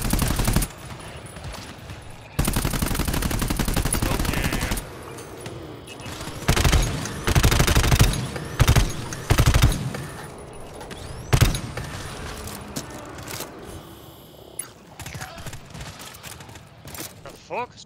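Automatic weapon fire from GTFO comes in heavy bursts and scattered single shots, loud and close, with quieter gaps between volleys and players talking over the action.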